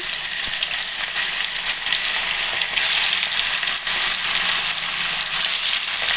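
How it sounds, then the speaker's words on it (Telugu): Korramenu (murrel) fish pieces fry in well-heated oil for an Andhra-style fry, making a loud, dense and unbroken sizzle close up with no pauses. "ఆయిల్ బాగా హీట్ అయిందండి ముందుగా చేపలు వేసుకోండి"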